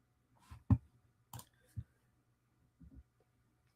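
Someone types on a computer keyboard, and a handful of soft, scattered key clicks come in small irregular bursts separated by quiet gaps.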